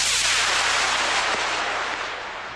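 A model rocket motor ignites and launches at an outdoor club range, giving a loud, continuous roaring rush that fades slowly as the rocket climbs away.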